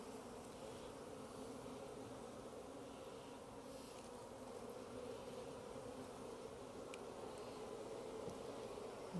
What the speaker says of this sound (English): The bees don't seem overly agitated